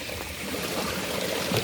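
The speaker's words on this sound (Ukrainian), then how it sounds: "Прямо водоспади." Water pours steadily over small waterfalls, a dense rushing wash heard close and without a break.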